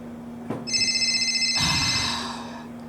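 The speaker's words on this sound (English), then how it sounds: "It's a lame ass ringtone." A phone ringtone goes off at a comedy show, a bright electronic tone repeating in a steady trilling pattern, fairly close and clear, shifting pitch partway through with no talking over it.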